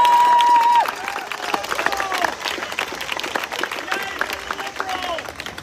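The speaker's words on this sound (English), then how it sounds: "So let's give her a round of applause." A rally audience in Leesburg, Virginia breaks into applause and cheering, a busy crowd of clapping hands following a brief tone at the start, sustained for several seconds.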